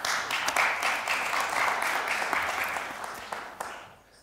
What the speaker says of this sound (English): Yes, I understand the applause